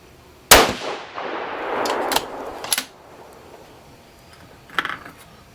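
Several 6.5 Creedmoor rifle shots from a 5-shot group firing 140-grain ELD-M or BTHP bullets: a sharp loud report near the start, a long decaying echo with a few smaller cracks, then another distinct shot several seconds later.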